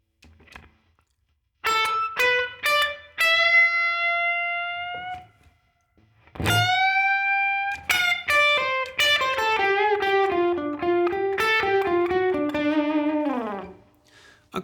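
Slow blues lick on electric guitar, with sustained bent notes, vibrato and a descending flurry of phrases, moderately loud with effects-tinged tone after a brief opening plucked note, no speech.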